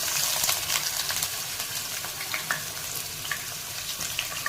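Onion dropped into hot mustard oil already tempered with mustard seed, dried red chilli and cumin for a Bengali mutton curry, giving a loud continuous sizzle and crackle with scattered sharp pops and a spoon scraping now and then, no voices.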